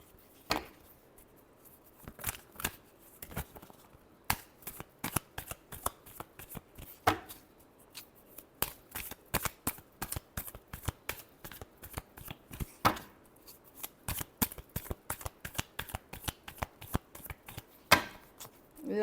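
Tarot cards being shuffled by hand, a long run of close, crisp riffling snaps and slaps in a quick irregular rhythm, with no talking.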